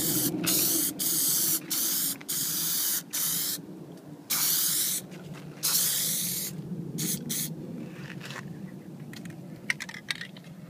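Plasti Dip aerosol sprayed onto car window trim for a chrome delete on a Subaru WRX, a series of loud hissing bursts separated by short pauses, close by with no talking.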